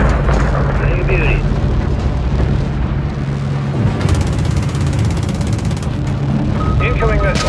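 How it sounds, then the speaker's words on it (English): Loud, continuous battlefield din from Call of Duty Modern Warfare 3, with rumbling missile explosions and heavy booms over a dense low roar, a brief high burst midway, and voices talking through the chaos. "Incoming missile."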